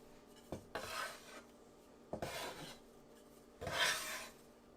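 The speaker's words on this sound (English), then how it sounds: "I have this bench scraper that's gonna make this easier." A bench scraper rasps across soft sweet potato gnocchi dough in three short, gritty scrapes, each a brief burst separated by pauses, close and fairly quiet.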